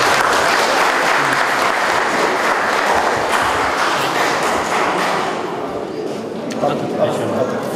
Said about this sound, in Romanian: Puteți să aplaudați.